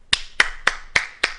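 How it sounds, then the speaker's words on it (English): Applause from a station master in a dramatized reading of Chekhov's play The Cherry Orchard: five sharp, evenly spaced claps, close and fairly loud, with no talking over them. "Station master applauds."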